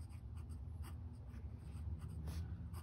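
A Parker Duofold Centennial fountain pen, the big red model with a factory stub nib, writes on notebook paper, giving a quiet, steady scratch of nib on paper, close up and alone.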